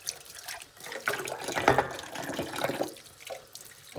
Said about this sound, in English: I better rinse them again because I can't actually remember.